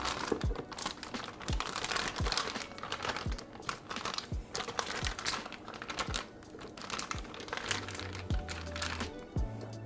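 Diplomat cream is transferred into a plastic pastry bag, bringing close, crinkly rustles and soft crunchy handling noises in irregular bursts, fairly quiet, with a brief low hum near the end.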